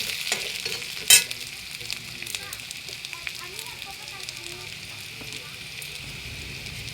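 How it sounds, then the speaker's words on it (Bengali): Potatoes fry with onions in a pan, making a constant, close sizzle broken by a sharp clink and frequent scraping from stirring. "আমি আলু দিয়ে ভালো করে ভেজে নিচ্ছি"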